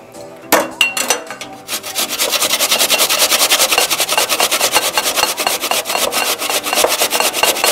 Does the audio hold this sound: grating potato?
yes